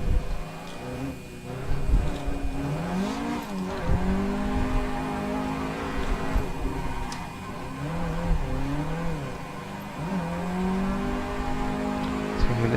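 A racing car in the Assetto Corsa video game revs and drifts, its engine rising and falling in repeated sweeping pitches with tyre squeal mixed in, sustained and fairly close throughout.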